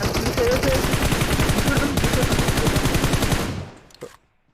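Dense automatic gunfire rattles in PUBG Mobile, a fast continuous burst of rounds for several seconds before cutting off abruptly, followed by a brief faint thud.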